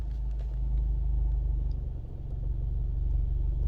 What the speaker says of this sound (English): So if I'm letting go of the clutch slowly,